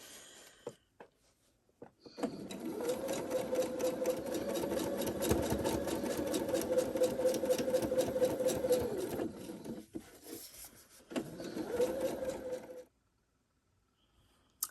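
Sewing machine stitching a quilt block seam runs in a steady, fast mechanical chatter for about seven seconds, pauses, then starts again for a shorter burst before stopping; close and clear with no talk.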